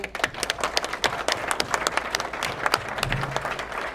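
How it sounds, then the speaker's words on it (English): Steady applause from a crowd at a governor's bill signing at a senior center, many hands clapping densely and continuously at a moderate distance, with a brief low rumble near the end. "So I applaud all of you."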